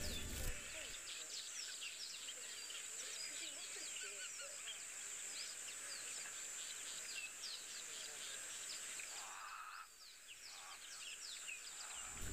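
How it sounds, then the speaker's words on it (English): Harsh, raucous Cape crow calls repeat over a steady outdoor insect drone at sunset on safari, with a brief lull near the end. "They'll also just hear that very raucous call of the Cape Crows."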